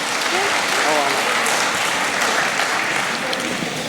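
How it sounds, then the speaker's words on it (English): Sustained audience applause fills a Deepavali community event hosted by a Tamil association in Queensland, a steady dense wash of clapping throughout with faint voices mixed in. "Can we please give a big round of applause, not only for them, but also for their family members, for their hard work and commitment."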